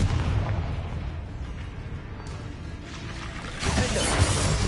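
Confringo fire spell going off in the Hogwarts Legacy video game, a dense rumbling blast that roars on, dips slightly, then swells again in a loud, close burst, with no voices.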